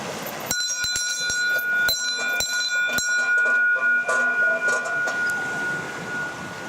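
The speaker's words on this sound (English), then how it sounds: "there are bear bells along this track and you have to ring them just in case" A bear bell hangs along a forest walking track on the Kiso Valley walk between Magome and Tsumago, and someone rings it: a bright metallic clang struck several times in quick, uneven succession, close and loud, its tone lingering and slowly fading into the outdoor background.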